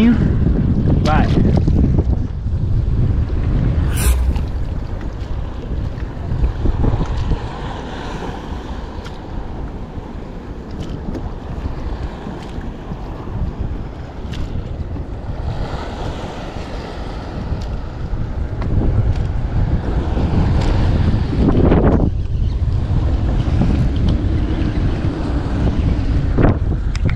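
Strong wind at sea buffeting a microphone during kayak fishing, a loud continuous roar and rumble with gusts that swell and ease over nearly half a minute, along with water lapping around the small boat and a brief voice.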